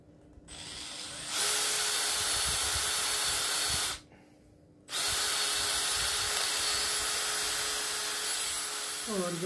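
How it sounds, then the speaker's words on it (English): A power drill whirs loudly at high speed drilling through a plate, stopping briefly for a moment of near quiet, then drilling again steadily until the end. "And we'll drill right through."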